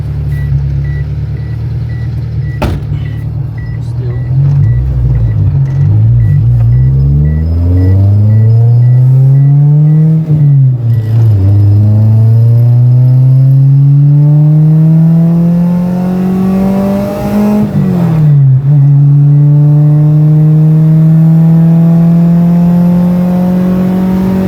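The B18-engined EF wagon drones loudly in fifth gear at around 3,000 RPM and 60 mph. The engine pitch rises and falls in long sweeps with several sharp shifts, strained and continuous throughout.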